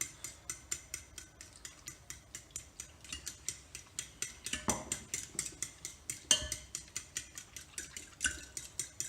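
A utensil whisks an egg and milk batter for French toast in a bowl, making quick, regular clinks and scrapes. The rhythm is close and fairly quiet and runs steadily without talk.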